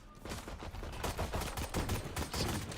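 Dense gunfire exchange in the Valorant tactical shooter, a continuous burst of overlapping rapid shots and impacts at high, steady loudness with no pauses.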